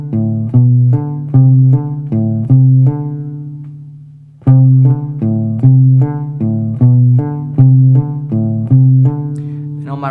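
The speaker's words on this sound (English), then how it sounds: "Nice and slowly, it sounds like this." Slow, palm-muted guitar riff, plucked with the fingers: a steady run of short, damped single notes in two repeated phrases split by a brief pause, clear and close with no talking.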